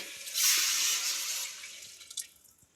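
Water is poured into a pot of fish curry (ghee fish kuzhambu) in a kitchen, a close, steady splashing pour that swells quickly, then tapers into scattered drips.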